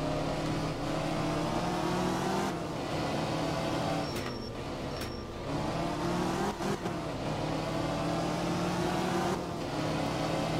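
A rear-wheel-drive rally car in the Art of Rally video game drones steadily at high revs, its engine note shifting with gear changes, and a few brief pings cut in over the constant motor sound.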